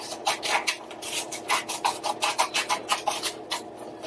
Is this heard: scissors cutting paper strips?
yes